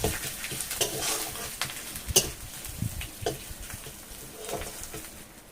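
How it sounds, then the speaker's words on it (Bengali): Kochur mul (taro root) and potato curry being stirred after turmeric goes in: close spoon scrapes and knocks against the pan in an uneven rhythm over a light sizzle, no talking. "এবার নেড়ে নেবো।"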